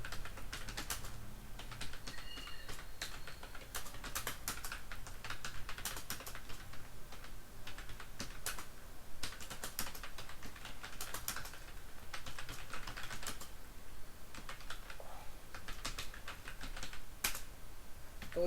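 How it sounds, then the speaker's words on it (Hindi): Steady, continuous typing on a computer keyboard while writing a letter in MS Word, with dense rapid key clicks running throughout at close range, with no voices. "आप टाइप करते चले जाएं"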